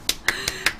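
Four sharp, separate hand claps in an uneven rhythm, close and crisp, with no voices over them.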